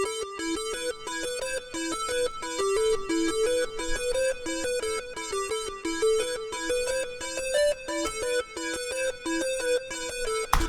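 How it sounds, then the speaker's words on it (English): Lead synth arpeggio using the Tell You No preset with flanger, plate reverb and a little delay, playing a fast, bright, repeating note pattern that steps up and down steadily throughout. "Next thing I added for this section is the lead synth, and this is the Tell You No synth"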